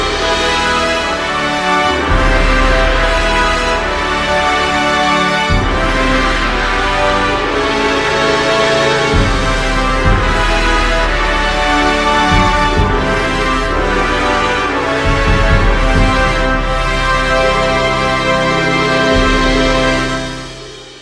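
Full orchestral opera music from Bluebeard's Castle at the opening of the fifth door plays loud and sustained, with broad swelling chords shifting by chromatic mediants over deep, repeated bass pulses.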